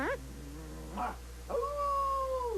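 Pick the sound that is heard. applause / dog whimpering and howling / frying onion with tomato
dog whimpering and howling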